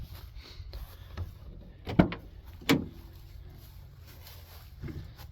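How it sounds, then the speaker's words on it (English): The back door of a vehicle build unlatches with a sharp click, then swings open with a second close thump against a quiet background. "Let me open up this back door here."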